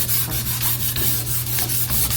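Paper sandpaper rubbed back and forth over stained wood in steady, close strokes, a rhythmic scratchy rasp repeating about every quarter second with a constant low hum beneath.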